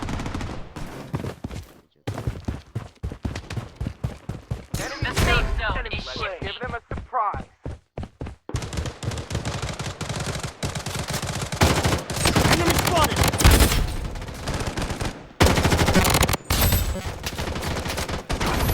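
Video game gunfire: loud, dense bursts of automatic weapon fire and rapid shots throughout, broken by a few short pauses, with occasional voice callouts in between.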